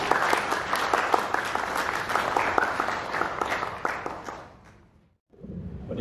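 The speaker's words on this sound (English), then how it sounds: "Let's clap our hands and welcome one another" A church congregation at a Sunday service claps hands together in a dense, lively round of applause that fades out after about five seconds, followed by a brief hush and renewed room noise.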